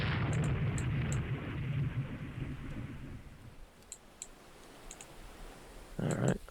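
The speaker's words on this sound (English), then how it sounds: "you're firing your main cannons at her" Warship main cannons fire in the naval strategy game Rule the Waves 2: a heavy booming rumble fades over a few seconds, scattered interface clicks follow, and another short burst of gunfire hits near the end.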